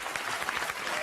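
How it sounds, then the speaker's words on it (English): A TV studio audience claps in a brief, dense burst that holds steady for about a second. "I don't know why everyone's clapping."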